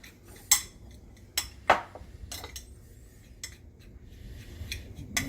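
A spoon mashes boiled egg yolks for deviled eggs in a bowl, giving a few sharp metallic clinks and scrapes against the bowl, spaced irregularly, close and fairly loud with quiet between, no talk.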